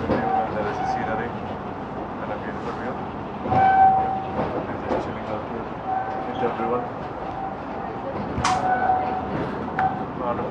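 A passenger train on the Vizag–Araku route in India rumbles steadily with rail clatter and a couple of brief horn blasts. People talk over the running noise.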